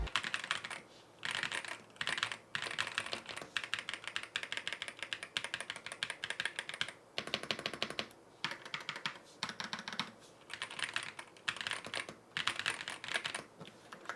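Typing on a Clipper Pro Mini 60 keyboard, a steady run of close, crisp key clacks in bursts with brief pauses, no voices.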